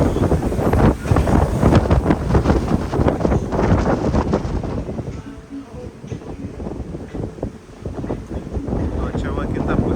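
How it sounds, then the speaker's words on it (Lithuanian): Strong wind buffets a rooftop bar in Bangkok, a loud, continuous rumbling roar against the microphone with gusts rising and falling and a person speaking briefly. "didelis vėjas, įpuoja lempos"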